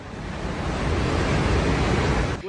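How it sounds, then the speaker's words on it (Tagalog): A loud, continuous roar of rushing floodwater between mountains, broad and unbroken like a torrent, with no voices. "rinig na ang pagragasa ng tubig sa pagitan ng mga bundok"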